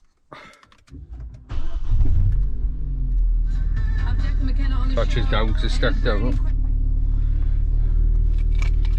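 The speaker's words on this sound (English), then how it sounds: "let's just make sure the car fires up." A Ford Fiesta ST engine cranks and catches at close range, then settles into a steady loud idle rumble with the car in neutral; someone talks over the engine noise.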